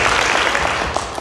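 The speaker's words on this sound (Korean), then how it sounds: "박수 한번 쳐주시죠." An audience at a Korean panel discussion on the new government's direction and industry views bursts into steady, fairly loud applause that fills the whole short stretch with no voices over it.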